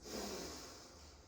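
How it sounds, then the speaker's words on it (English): A single soft, steady nasal inhale, close and quiet, with a hissy airy texture and no talking. "you're gonna sniff some air in through the nose"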